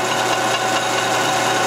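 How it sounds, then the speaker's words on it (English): A power tool with a sanding disc grinds steadily on metal for AR-15 front sight work, giving a loud, continuous abrasive whine that holds unbroken from start to finish. "I'm going to grind on this until we have it small enough to where we can use it"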